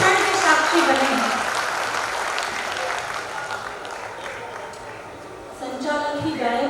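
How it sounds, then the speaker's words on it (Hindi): Audience clapping at a Hindi comic poetry gathering (kavi sammelan), a dense steady applause that fades slightly midway and swells again near the end, with a voice speaking over it. "एक बार अपने सौभाग्य पर तालियां बजाइए"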